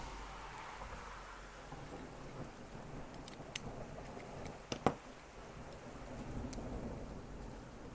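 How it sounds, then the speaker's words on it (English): Steady rain hisses throughout, heard through an open garage door, while distant thunder rumbles, with a sharper crack of thunder near the middle; no voices. "I've got the garage door open today, and we've just got a thunderstorm."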